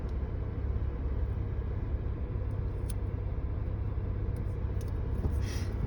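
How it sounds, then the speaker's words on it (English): A car drives along a road with a continuous low rumble and road noise, close and steady, while something scrapes and grabs at its underside; a few faint clicks and knocks sit on top, with no talking. "somebody's grabbing the bottom of my car"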